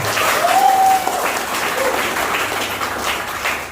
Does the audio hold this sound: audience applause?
yes